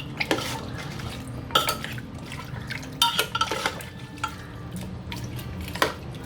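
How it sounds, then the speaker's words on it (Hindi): Paya pieces are stirred in a pot with water, giving several metallic scrapes and clinks of a spoon against the pot amid soft sloshing, with no talk. "इसे एक बार अच्छे से मिला देते हैं।"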